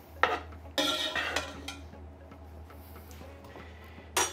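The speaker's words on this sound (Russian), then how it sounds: "Перемешиваю макарохи." Pasta being stirred in a pan, with a few loud scraping, clattering strokes of a utensil against the metal, quieter shuffling in between and a final knock at the end.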